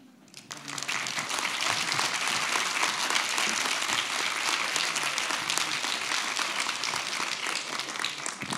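After a talk on CO2 emissions and the Paris agreement, an audience breaks into sustained, dense applause that rises quickly and holds steady.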